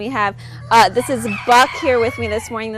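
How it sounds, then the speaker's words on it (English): Roosters crow repeatedly with rising, drawn-out calls and short clucks in a fair livestock barn, loud and close, mixed with a person talking over them. "You can hear the roosters and chickens crowing right now."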